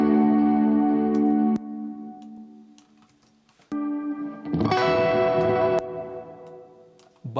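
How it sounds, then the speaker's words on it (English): Electric guitar chords from a band recording ring out with a long, spacious cathedral-style reverb tail, fading between loud strummed bursts, with sharp clicks punctuating the sustained wash. "in places I have some cathedral kind of reverb"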